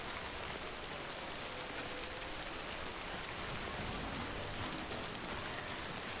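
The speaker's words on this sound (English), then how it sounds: "It's just non-stop rain though." Steady, dense rain falls in the Death Stranding video game, an unbroken hiss of drops on surfaces that holds at an even level throughout, with no talk.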